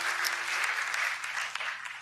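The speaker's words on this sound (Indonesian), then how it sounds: "Beri tepuk tangan buat kemurahan Tuhan." A church congregation at a night prayer service breaks into steady, dense applause, moderately loud, ringing evenly for about two seconds before tapering off.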